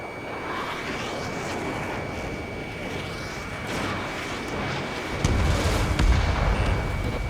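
Missiles launching and exploding in the jet combat game Ace Combat 7, flown in an F-15E Strike Eagle: a continuous roaring jet rush with a heavier boom near the end and a steady lock-on tone.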